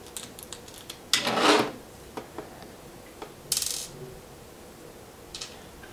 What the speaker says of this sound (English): Go ahead and take your screwdriver and start to take the dials off.